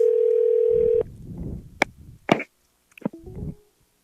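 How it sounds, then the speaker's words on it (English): A steady telephone dial tone hums for about a second, then cuts off, followed by a few scattered clicks and soft knocks from the handset as a phone call is placed. "I'm calling you on the phone"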